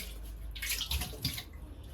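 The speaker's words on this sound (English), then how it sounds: "Very fast, we rinse the sufuria first." Water splashes and sloshes briefly as a sufuria cooking pot is rinsed, close and moderately loud, a few quick swishes with no voices.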